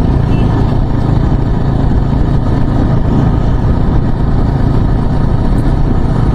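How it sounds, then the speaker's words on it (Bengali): A group of motorcycles gathered on a road for an evening Sunday ride, their engines a loud, continuous rumble close by, steady throughout with no clear breaks. "সামনে দেখতে পাচ্ছ সমস্ত বাইক রাস্তা রয়েছে আমাদের"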